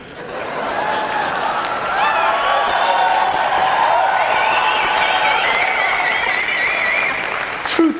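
Audience applause at a motivational talk, a dense, steady wave of clapping that swells and holds for several seconds at full strength, close and loud with a few scattered cheers, then tapers near the end.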